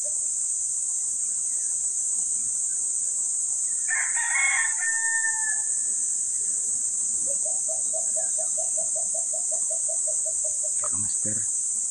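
At a house, a rooster lets out one crow, then a longer run of repeated rising calls, over a constant high insect drone from crickets.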